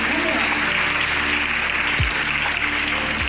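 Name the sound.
audience applause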